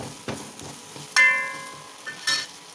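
Curry leaves dropped into hot oil crackle and sizzle in short bursts, with a few sharp pops and spatters, close and moderately loud.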